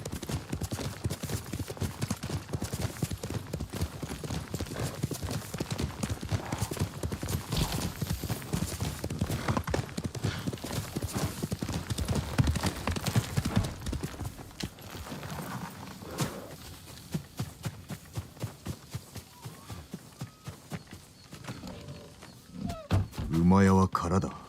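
Steady horse hoofbeats clip-clop throughout at a walking pace in the video game Ghost of Tsushima, with a voice talking over much of it and a brief louder burst near the end.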